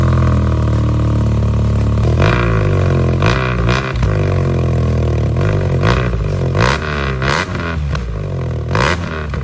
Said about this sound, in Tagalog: Sigurado ako gusto nyo marinig yung sound check nito. So parinig natin ang full system na R90.